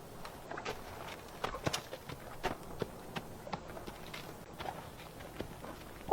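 A horse's hooves walk through a gate in a clip-clopping pattern, irregular, soft and fairly close, with a louder thump at the very end and no talking.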